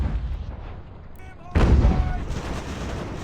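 Cannon and mortar fire in the strategy game Ultimate General: American Revolution, a sharp loud blast landing mid-clip that rolls on into sustained battle rumble, with quieter distant booms beforehand.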